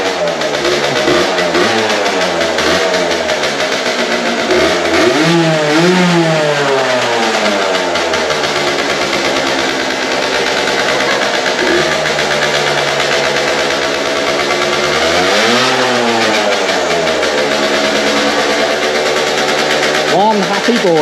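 Aprilia SX50 scooter kickstarted and then revved with the throttle several times, a close, buzzy two-stroke whine rising and falling over a rough idle, with people talking now and then.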